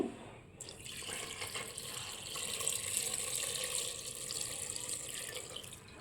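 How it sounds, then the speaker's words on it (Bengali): Water pours steadily into a pot of chickpeas being readied for boiling, a continuous close splashing and gushing stream that runs for several seconds before tapering off near the end. "তারপরে পরিমাণ মতো জল দেবো সেদ্ধ হওয়ার জন্য"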